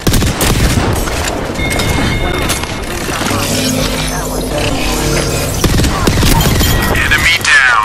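Dense gunfire and booming blasts from an Apex Legends match fill the whole stretch, loud and continuous, with layered shots and explosions and some game voice lines mixed in.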